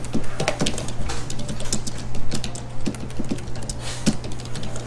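Computer keyboard keys being pressed while entering AutoCAD commands, a quick run of close, moderately loud clicks in an uneven rhythm with a steady low hum underneath.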